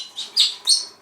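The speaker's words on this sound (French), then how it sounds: "Ça, c'est notre perroquet qui est jaloux." A jealous pet parrot gives three quick, bright chirps in close succession, close and clear against a quiet background.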